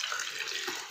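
A short, steady rush of water pours into a pot of boiled saag greens in a village kitchen, a brief splashing pour with no talking.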